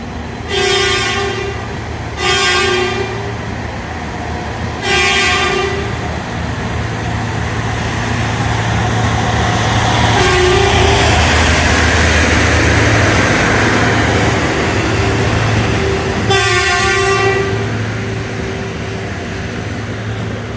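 Rajdhani Express train pulling out of the station, with several loud sustained horn blasts separated by pauses over a steady rumble of rolling wagons and engine noise, no talking.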